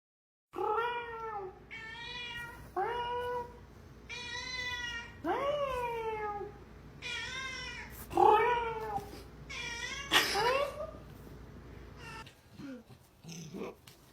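A cat meows repeatedly in a series of rising, wavering calls, loud and close, with a few sharper yowls toward the end and some voice mixed in.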